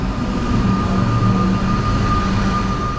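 A new Melbourne commuter train, a relative of the X'trapolis 100, running with a steady loud rumble and a sustained high whine that holds evenly for the whole span, with no talk.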